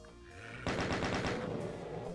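Rapid bursts of gunfire from enemy gunners in the video game DOOM, a dense sustained machine-gun rattle that starts abruptly and continues loudly, with no talk.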